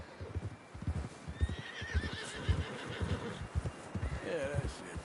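A horse in the Red Dead Redemption 2 game neighs and whinnies several times over steady clip-clop hoofbeats, with someone talking throughout.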